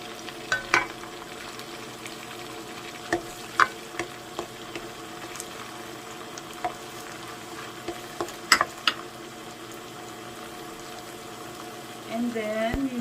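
Onion fries in melted butter in a pan with a steady, fairly quiet sizzle, broken by occasional sharp pops and clinks of stirring, heard close up without talk.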